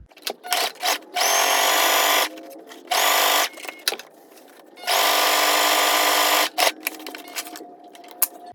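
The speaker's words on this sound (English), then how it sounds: "And then we are going to sew, from here all the way to here, and then all the way down here." A sewing machine stitches fabric for a bow hair clip, whirring in several loud, close bursts of one to two seconds with quiet handling noises between them.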